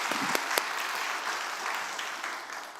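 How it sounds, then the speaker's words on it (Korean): During a Sunday service at a Korean church, the congregation breaks into a soft, continuous wash of applause, fairly distant and even, with a couple of sharper individual claps near the start. "우리 마음을 모아서 우리 하나님 앞에 영광의 박수 올려드리도록"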